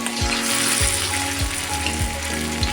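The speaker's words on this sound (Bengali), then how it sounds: "কড়াইতে তেল গরম হয়ে গেছে এক এক করে আমি মাংসের পিসগুলোকে ভেজে নেব" Steady, loud sizzling of chicken pieces frying in hot oil in a wok, a continuous crackling hiss with faint periodic low thumps and no voices.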